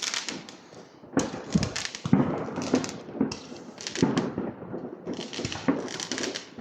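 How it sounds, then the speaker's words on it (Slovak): New Year fireworks and firecrackers bang in a rapid irregular series outdoors, sharp loud cracks and crackling bursts at varying distances, some close and some farther off, with no talking. "A petarda je na zemi. to vystrelili z ruky."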